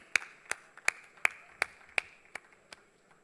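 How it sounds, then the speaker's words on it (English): A few slow, evenly spaced claps ring out in a conference hall, crisp single hand claps about every third of a second, fairly faint and alone with no talk. "can we have a huge round of applause for him"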